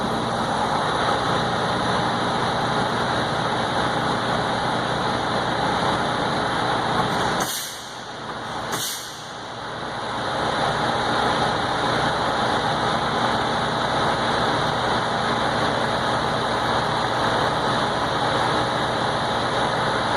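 A truck engine idles steadily and loudly through an air system test, with a constant rumble and hiss. Midway comes a short sharp dip and release like an air brake purge, then the idle resumes, with no one talking.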